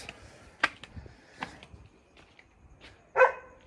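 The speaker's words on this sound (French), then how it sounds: "dès qu'il entend du bruit, il gueule, il jappe. Enfin, il jappe pas, c'est un gros chien" A big dog barks in short sharp bursts, a few scattered woofs spaced across the moment, with a louder final bark close by in an otherwise quiet setting.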